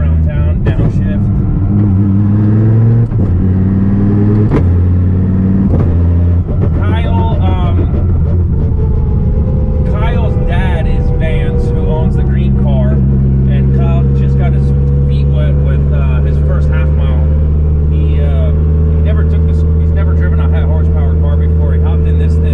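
A Calvo Motorsports 1800X twin turbo Viper with an air-shifted sequential gearbox roars loudly up through the revs in the cabin, its engine note climbing in repeated pulls between quick automatic upshifts, then settling into a steady heavy drone.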